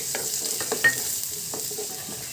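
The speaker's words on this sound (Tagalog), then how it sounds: "Gisa na natin ng sibuyas" Onions sautéing in a pan for a ground pork omelette, a steady close sizzle with a few scraping stir strokes and one brief clink, no talking.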